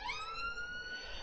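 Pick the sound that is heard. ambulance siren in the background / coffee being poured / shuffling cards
ambulance siren in the background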